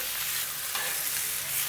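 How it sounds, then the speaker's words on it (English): Loud, dense sizzling of skirt steak for fajitas searing on a hot griddle, a continuous crackling hiss close by with no talking. "Ooh, I love to hear that sizzle."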